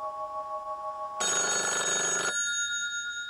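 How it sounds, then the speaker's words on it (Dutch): A telephone rings with a bright, trilling bell that bursts in for about a second over a steady tonal background, then stops, leaving the hum behind. "Feneu krijgt een telefoontje van Horion, die weer naar Gent is gereden"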